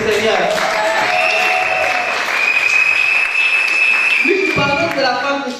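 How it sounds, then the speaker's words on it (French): Church congregation applauding during a French-language sermon, a dense, steady wash of clapping that fills the clip, with a sustained tone running through it and voices mixed in. "Est-ce que tu peux applaudir pour le Seigneur?"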